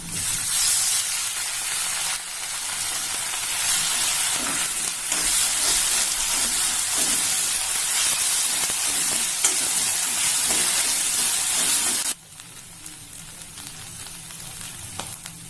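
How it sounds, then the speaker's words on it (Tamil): Ginger garlic paste sautéing with onions for mint rice, a steady loud sizzle with faint stirring scrapes that drops to a quieter hiss near the end. "வெங்காயம் கொஞ்சம் வதங்கினதும் இஞ்சி பூண்டு பேஸ்ட் சேர்த்துக்கலாம்."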